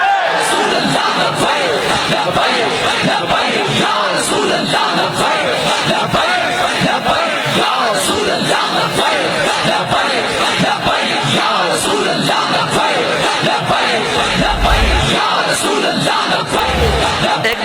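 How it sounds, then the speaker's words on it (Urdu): A large crowd at a religious-political rally shouts the Labbaik slogan, a continuous roar of many voices chanting and yelling, loud and sustained throughout. "لگا کے نعرہ بتاؤ کہ آج بھی لبیک کا نعرہ اسی طرح لگ رہا ہے"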